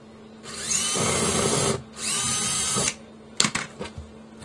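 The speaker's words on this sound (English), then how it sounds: "get yourself a drill" A power drill whirs in two steady bursts, each lasting about a second, followed by a few sharp clicks and clatters nearby while removing a hot tub cabinet panel.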